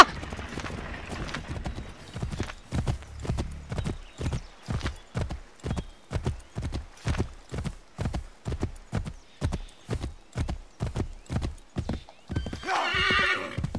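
Rhythmic horse hoofbeats in Assassin's Creed III clop steadily at a trot for several seconds, even and close, ending in a burst of noisy rustle at the very end.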